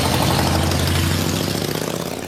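A motorcycle engine idles steadily at close range, a loud continuous low rumble with a fast, even throb that fades slightly toward the end, with no voices.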